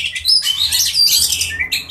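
Oriental magpie-robin (kacer) sunning itself, giving a close, loud run of bright chirps, whistles and warbling phrases that continue without pause, with no voices present.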